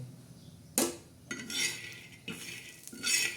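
A utensil scraping and stirring peanuts roasting in a pan, several distinct strokes with metallic rasps, close and fairly loud, no talking.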